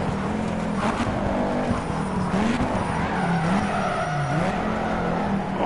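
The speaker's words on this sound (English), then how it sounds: "Can't even hear you over the sound of the engine." Formula 1 race cars in the Project Cars video game race on a wet track. Engines rise and fall in pitch through gear changes, with tire hiss and squeal mixed into a dense, continuous racing roar.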